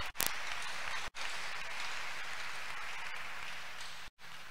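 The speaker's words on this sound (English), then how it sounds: "Clap unto God of truth" A church congregation claps together in a thick, even patter of many hands heard at a moderate distance, the steady clapping broken by two brief cuts.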